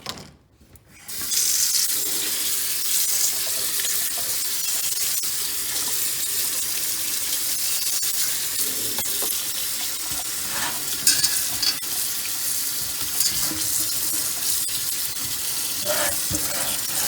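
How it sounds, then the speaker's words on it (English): Strawberries are washed under a running kitchen tap, a continuous close rush of splashing water that starts after a brief quiet moment and carries on steadily, with occasional clatter and shifting as the berries are handled. "the first thing that we need to do is wash our berries"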